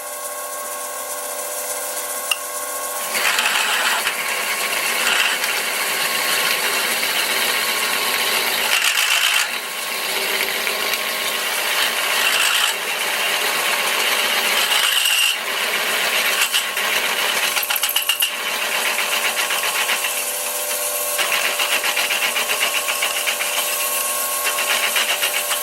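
A 9.5mm drill at 450 RPM grinds steadily into material with a high whining, scraping tone, pausing and resuming several times, close by and with no voices.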